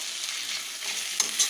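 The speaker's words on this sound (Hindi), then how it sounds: "मैं फ्राई किया हुआ मसाला ऐड कर देती हूँ और इसे एक मिनट तक बस इसमें मिक्स करूँगी" Fried masala with tomato and onion is stirred in a pan for Bihari-style stuffed bitter gourd, making a brief, steady close sizzle with a couple of soft scraping bumps near the end, with no talking.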